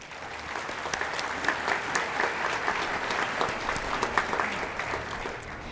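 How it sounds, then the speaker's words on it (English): A commencement crowd applauds at a school graduation ceremony, steady moderate clapping from many hands that holds evenly for several seconds, slightly distant in a large space. "Let us give them a round of applause for all their dedication and support."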